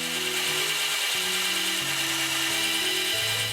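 ALLSOME BG-518801 benchtop drill press running steadily with a continuous motor whine and hum, close and loud, with a slight pitch shift partway through, no one talking.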